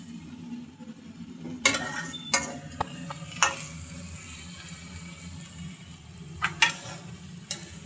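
Rotis frying in a pan, a faint sizzle under scattered sharp clicks and taps from turning them, quiet and close with no talking.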